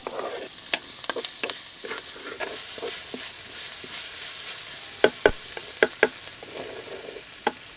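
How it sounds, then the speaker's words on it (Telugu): Onion pieces fry in hot oil for a Rayalaseema-style dry mutton curry, steady sizzling with a spoon scraping and tapping the pan in sharp intermittent clacks, close and moderately loud. "ఈ ఉల్లిపాయ ముక్కల్ని ఎనభై శాతం వేయించుకోవాలి"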